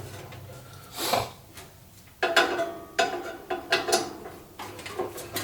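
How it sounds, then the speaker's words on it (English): A screw is backed out of the front plate of a Kenmore 90 series dryer, short bursts of ratcheting driver clicks and metallic scraping at close range, separated by brief pauses. "I'm just going to remove this front plate, this one screw here."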